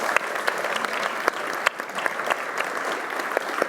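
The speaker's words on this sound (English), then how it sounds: "a big round of applause for the panel" Steady, dense applause for a panel from an indoor biotech conference audience, clapping continuously throughout with sharp individual claps standing out.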